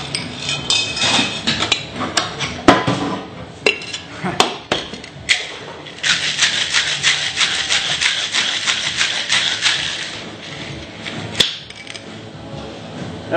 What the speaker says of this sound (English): Following that, just a nice big scoop of crushed ice, going to shake it for a while.